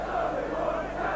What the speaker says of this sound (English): The crowd applauding Gary Schofield.